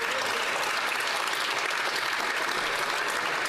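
Steady applause rings out in the House of Commons for Nikki Enns, many hands clapping densely and evenly throughout, with no break and faint crowd murmur.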